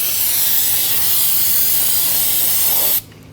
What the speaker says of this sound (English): I'm gonna spray this down to clean off some of the residual brake dust